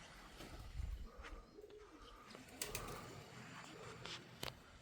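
Pigeons coo softly and repeatedly in a home loft, low murmuring calls with scattered flutters and chirps, fairly quiet and close, no talk.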